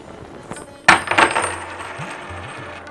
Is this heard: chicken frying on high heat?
no